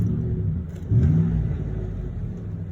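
Engine of a 2011 Ford F-150 XL pickup revving loudly in one rising surge over a steady idle rumble, close by, with no talking.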